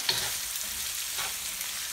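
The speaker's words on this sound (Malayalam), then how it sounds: "കുറച്ച് ഉപ്പുകൂടെ ചേർത്ത് നന്നായി ആ സവോള നമുക്കൊന്ന് വഴറ്റിയെടുക്കാം." Sliced onions sauté with salt in a hot pan for Kerala chicken dum biryani, giving a steady, close sizzle with a soft stirring scrape, continuous and alone without speech.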